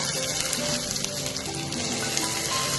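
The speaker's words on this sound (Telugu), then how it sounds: "టొమాటోలన్నీ కూడా కొంచెం బాగా వేగాలి." Tomatoes sizzle and fry in a pan with onions and ginger garlic paste for vegetable khichdi, a steady close hiss crackling throughout with no pauses.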